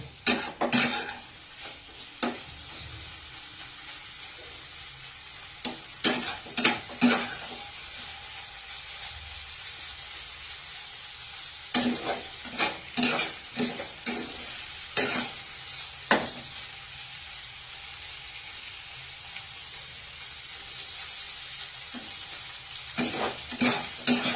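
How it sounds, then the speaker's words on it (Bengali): Eggplant is stir-fried in a pan on a steady sizzle, with repeated sharp scrapes and knocks of a spatula in bursts, close and clear, with no voices. "ভাপে ভাপে বেগুনটা সফট হয়ে যাবে আর এরম ভাবে ভাজাটা হবে"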